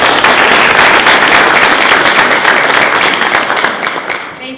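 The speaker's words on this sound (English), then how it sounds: "Can we give them a round of applause?" A room of people at a township trustee meeting applauds veterans in the audience, a dense, steady clapping close by that carries loud through the whole stretch and fades slightly at the end.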